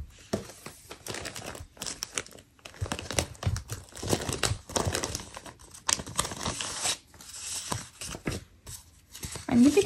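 Paper puzzle sticker sheet handled up close while decorating a Hobonichi Cousin planner, giving repeated crinkling and rustling bursts with brief pauses, fairly loud and continuous throughout.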